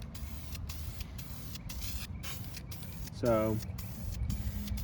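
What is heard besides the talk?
spray painting light coats on a 2009 Honda Civic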